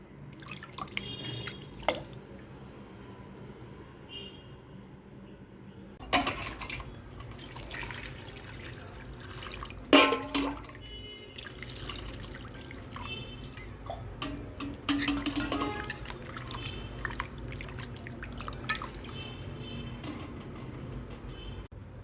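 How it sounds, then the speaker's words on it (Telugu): Running lukewarm water and splashing with irregular drips and clatters as chicken is rinsed by hand, fairly quiet and close, no talking. "చికెన్ని గోరువెచ్చటి నీళ్ళతో కడుక్కున్నాను"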